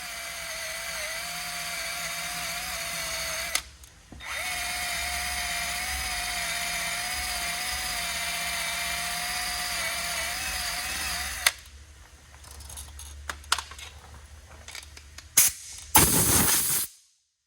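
A battery-powered tool spins an eraser wheel to strip paint from a wrecked 2002 Mustang, a steady high whine held for several seconds, a brief stop, then a longer run before rougher, intermittent grinding at the end.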